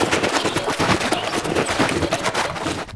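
A nature-style Foley preset from the Concatenator plugin plays continuously: a dense, busy rustle of clattering, crackling textures with irregular knocks, loud and steady throughout before dropping off at the end.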